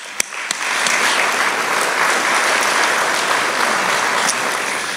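Loud, sustained applause from a large audience at a maritime company's 25th anniversary and ship christening, dense even clapping that swells in after a brief quieter start and holds steady.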